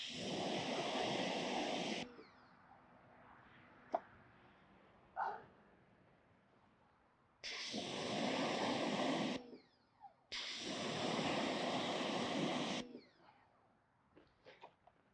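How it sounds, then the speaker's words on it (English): A pressure washer blasts water over yellow sponges in three long, loud hissing bursts, with quieter gaps and a few small knocks between them. "I'm just going to take them and pressure wash out one side"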